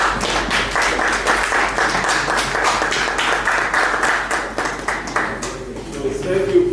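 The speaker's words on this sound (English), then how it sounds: "Please let's give Prof a round of applause." Listeners clap after a mathematics lecture, with a brisk patter of hand claps running for several seconds before thinning out, and some voices and light tapping noises toward the end.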